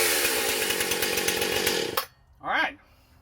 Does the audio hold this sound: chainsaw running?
yes